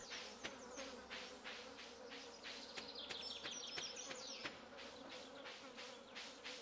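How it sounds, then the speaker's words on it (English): Bees buzzing in the farming game Stardew Valley, a steady insect drone with rapid fluttering pulses, continuous and fairly close, with no other sounds. "I hear bees."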